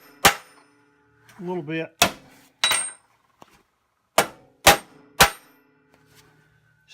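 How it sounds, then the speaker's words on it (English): A hammer strikes a hollow rivet on a snow shovel's wear strip, giving sharp metallic clangs: about six separate hits with gaps between them and a brief stretch of speech early on. "Strike it a couple of times"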